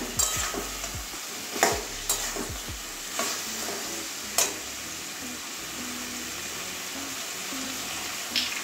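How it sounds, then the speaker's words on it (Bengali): Soy chunks sautéing in a pan, with spatula stirs scraping and knocking against the metal over a low, steady sizzle, close and fairly quiet, busier in the first few seconds and sparser after. "ভালো করে কষিয়ে নেব সয়াবিনটা"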